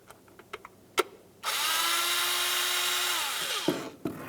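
A power tool whirs steadily for about two seconds while loosening the distributor cap mounting screws on a 1994-2002 Dodge Ram 2500, preceded and followed by a few sharp clicks and taps, close up with no talking.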